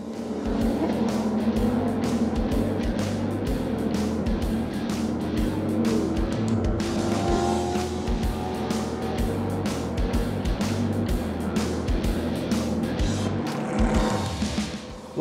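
Stock Car race cars running in a queue behind the safety car on a wet Interlagos track, a steady loud engine drone with tonal whines rising and passing, continuous throughout with no talk.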